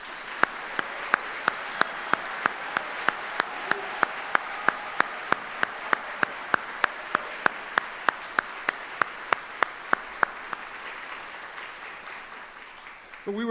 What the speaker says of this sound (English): Ladies and gentlemen, please join me in a round of applause for these 27 great soldiers.